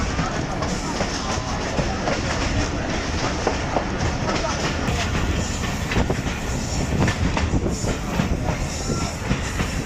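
The 122 DN Ravi Express runs from Lahore toward Shorkot in hot, dusty weather, heard from inside as a loud, continuous rumble with rhythmic clickety-clack of the wheels and occasional rattles.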